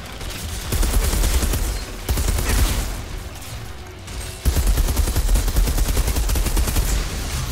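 Sniper and rifle fire in the Outriders video game, rapid loud bursts of shots in close succession, pausing briefly before a heavier, sustained volley.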